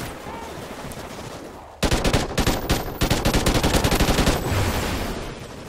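Pistol gunfire in the multiplayer mode of Call of Duty Ghosts, quiet at first and then bursts of loud, rapid shots fired in quick rhythmic volleys, close and sustained for several seconds with no voices.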